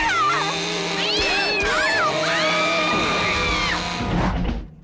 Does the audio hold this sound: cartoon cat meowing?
yes